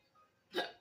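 A single short belch from an adult, close and abrupt, lasting under a quarter second, with silence around it.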